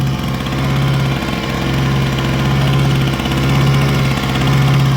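New Kraft portable generator engine running under load from a connected welder, a steady close drone with a strong low hum and a slight periodic waver, no voices.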